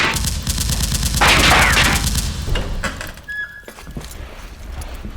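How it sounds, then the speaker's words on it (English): Gunfire from a masked, cloaked woman in an audio drama set in a burning building, a loud burst of repeated shots over crackling background noise that fades into quieter rumbling. "The building is burning, and the Fang masked cloak lady has opened fire."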